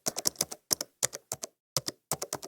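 Quick bursts of computer keyboard typing, crisp close key taps in short clusters separated by brief pauses, with no voices.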